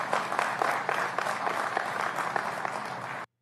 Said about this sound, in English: Listen to those tens of people applauding that shit